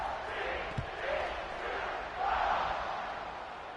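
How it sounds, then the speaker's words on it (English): A large football stadium crowd at a TCU versus Clemson game keeps up a steady broad murmur that rises and swells in waves, with a louder surge near the end under a commentator's voice. "this crowd is buzzing after that last score"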